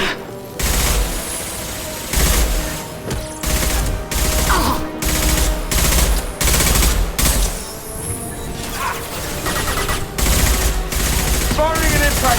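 Impact shot gunfire in the video game Mass Effect 2 comes as loud, close bursts of rapid fire broken by short pauses over about twelve seconds, with crashes and a character's voice mixed in.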